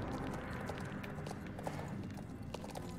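Horse hooves clip-clop in a steady trotting rhythm in the Star Stable video game, the repeated soft thuds running evenly over a low background hum.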